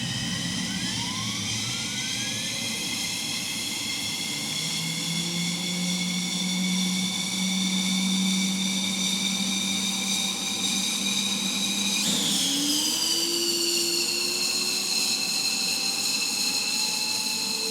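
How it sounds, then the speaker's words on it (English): Engine 1 of a jet airliner spools up in Microsoft Flight Simulator, its steady whine climbing in pitch under a constant rushing hum. Partway through, the tone makes a sudden jump and then keeps rising. "Let's go ahead and get engine 1 ready."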